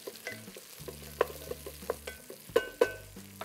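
Quiet frying of drumsticks in oil with soft sizzling and scattered sharp clicks and taps of a utensil stirring in a pan.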